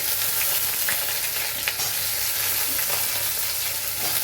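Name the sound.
frying potatoes and onion in pan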